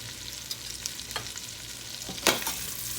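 Potatoes tossed in a butter garlic sauce in a pan, a low sizzle under scattered stirring clicks and scrapes, with one sharper clatter near the end and no voices.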